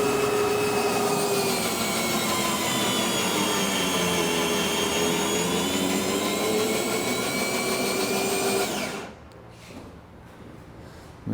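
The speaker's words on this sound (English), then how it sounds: "we're going to go ahead and make sure that the gear swings proper" A steady electric motor whine runs for about nine seconds as the landing gear of a Seamax aircraft, jacked up off the ground, swings through its travel. The whine then cuts off abruptly, leaving faint background.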